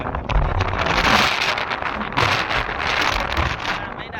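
Heavy monsoon rain pouring down in a Saurashtra village, a dense, loud, continuous wash of falling water with gusty wind buffeting the microphone, close and unbroken throughout.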